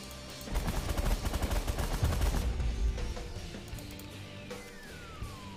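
In the space strategy game The Last Federation, ship weapons fire at enemy vessels in rapid rhythmic bursts, dense and loud for several seconds. The volleys then thin into scattered shots, with a faint falling whistle trailing off and no voices.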